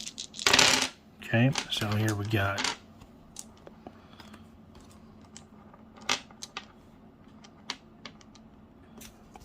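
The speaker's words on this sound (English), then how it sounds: "dungeons by rolling a handful of d6s and assemble based on results" A handful of six-sided dice is rolled onto a table during a tabletop card game, with brief rattling clatter and a few scattered clicks after a person speaks briefly.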